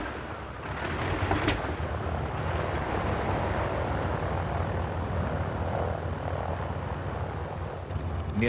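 Junkers 52 transport aircraft, the three-engined 'Tante Ju', droning steadily with a broad, continuous propeller-engine roar that stays loud and even throughout, with no voices.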